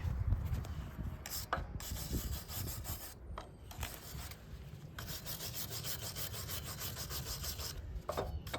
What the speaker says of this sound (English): Hit it with the wire brush here.